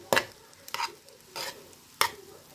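Mixed vegetable fried rice is stirred in a pan with a spatula in four distinct scraping strokes, close and moderately loud, separated by short quiet gaps and a faint background sizzle.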